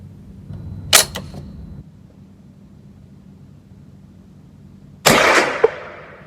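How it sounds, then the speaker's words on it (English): Two sharp gunshots from CCI Clean 22 rimfire rounds crack close by a few seconds apart, each with a brief ringing decay, against quiet background hiss. "Now, the first one to go is Clean 22."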